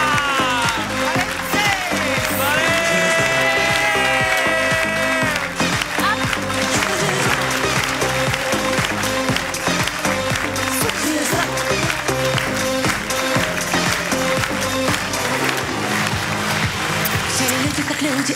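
A studio audience applauds and cheers to welcome a guest, radio host and actress Masha Matveeva, onto a sports entertainment show, the clapping steady and loud over lively band music playing throughout.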